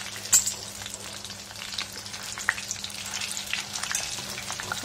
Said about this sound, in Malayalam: ഫ്രൈ ആയി വരുന്നേ ഉള്ളൂ